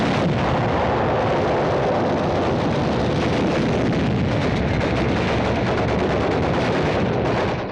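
Artillery fire and explosions roar in a World War II battle on Tarawa beach, a dense, loud, continuous barrage of booms and gunfire with no pauses and no voices.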